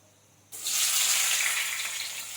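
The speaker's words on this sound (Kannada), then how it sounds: "ಸೋಂಪು ಬಿಸಿ ಆಗಿದ ತಕ್ಷಣ ಈರುಳ್ಳಿ ಹಾಕ್ತಾ ಇದ್ದೀನಿ." Onions dropped into hot oil with fennel seeds burst into a loud, steady sizzle after a brief quiet moment, the frying hiss holding strong and close to the end.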